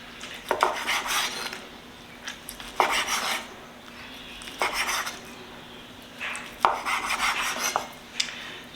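Knife slicing across the grain of a spatchcocked BBQ chicken breast on a board, with several distinct bursts of scraping, clinking cuts separated by short pauses, close and fairly loud.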